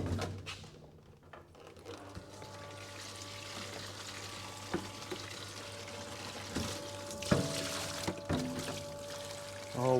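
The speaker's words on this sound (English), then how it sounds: "so I'll just fill it up with water" Water being poured from a bucket into an engine in a garage, a steady quiet pour and trickle with occasional knocks and clunks over a low hum.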